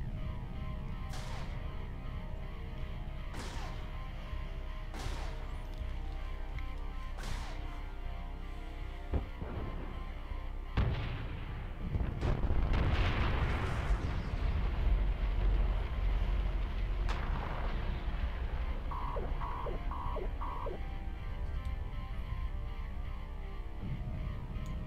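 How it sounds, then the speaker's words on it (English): A spaceship explosion in the space game EVE Online rumbles as a broad low roar in the middle of the clip, set over steady droning game ambience with a few sharp transient hits earlier and short electronic beeps near the end. "You've taken damage from the nearby explosion."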